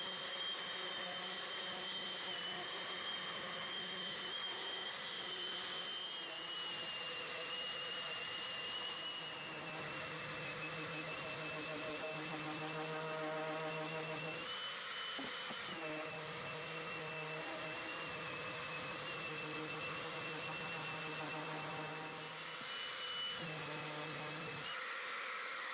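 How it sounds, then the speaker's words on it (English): Power sander working 120 grit sandpaper across a hardwood tabletop, a continuous whirring whine with a high tonal hum, steady and fairly close, dipping briefly a few times as the tool shifts or lifts. "I'm giving everything a good 120 grit sanding,"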